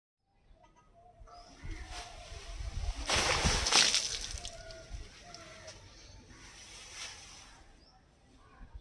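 Water splashes onto a person wearing a pocket raincoat, with one loud spraying burst mid-clip and softer splashes after it, and voices nearby.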